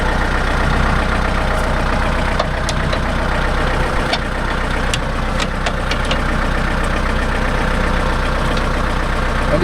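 A Kubota MU4501 tractor engine runs loud and close in a coconut plantation, a steady low chugging drone with a rough knocking texture and occasional faint clicks, continuing unbroken throughout.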